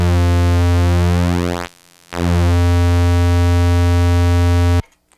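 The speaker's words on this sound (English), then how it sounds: "We'll start with the square wave or pulse wave." A variable-width pulse wave from a Synthesizers.com modular synthesizer oscillator, held as a steady loud buzzy tone with the timbre shifting as the width sweeps, briefly cutting out near the middle, then stopping abruptly.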